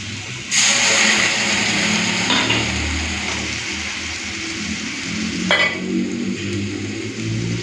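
Mustard-paste water poured into a hot pan of fried potatoes and eggplant sets off a sudden, loud, close sizzle that keeps hissing steadily, with a brief clatter partway through.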